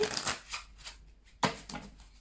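A deck of angel oracle cards being shuffled by hand, several quick papery riffles and slaps in two bursts separated by a brief pause, close and clear.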